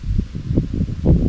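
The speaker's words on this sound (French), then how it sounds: "il y a beaucoup de vent" Strong wind blows outdoors in low, gusty rushes that swell and fade in quick bursts, close and fairly loud.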